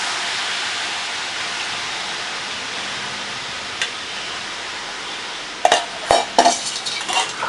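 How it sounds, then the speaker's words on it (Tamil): Dissolved jaggery syrup poured into a pan for purifying, in a Tamil New Year sweet recipe with mashed chana dal: a steady soft hiss of flowing liquid, then a few light clinks and splashes near the end. "இதில் கரைச்ச வெள்ளைப்பாகை விடுறோம் ப்யூரிஃபை பண்ணுறதுக்கு"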